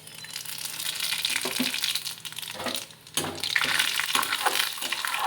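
Mustard seeds and radhuni spices are tempered in hot oil in a kadai for lentil dal, giving a loud, continuous crackling sizzle up close with a brief dip midway before it flares again.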